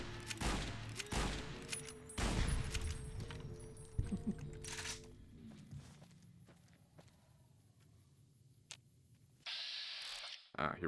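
Gunfire from the game Fallout: New Vegas, a burst of loud shots near the start and another around two seconds in, followed by footsteps and game ambience, with a voice talking at points.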